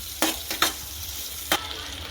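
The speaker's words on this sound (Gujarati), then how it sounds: "આ રીતે આપણે બધું જ પાછું મિક્સ કરી લઈશું" Potatoes and spices being stirred in a pan for puffed rice khichdi, with a few sharp scraping strokes of the spoon over a steady soft sizzle of frying, close and alone.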